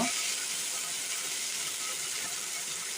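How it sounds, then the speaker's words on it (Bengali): Black cumin and coriander leaves fry in hot oil with a steady, even sizzling hiss, close by and unbroken throughout. "তারপরে একটু সুন্দর করে ভেজে নিব"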